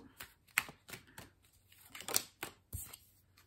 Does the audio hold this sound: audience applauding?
no